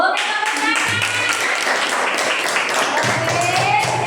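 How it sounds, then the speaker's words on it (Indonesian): Students in a classroom clap together, a fairly brief burst of hand claps mixed with children's voices talking over it. "Oke, tepuk tangan."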